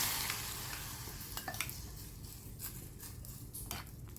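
Hot oil poured into a bowl of egg fried rice ingredients, sizzling and crackling loudly at first, then settling into a fainter fizz with scattered spits and pops and a few stirring clinks.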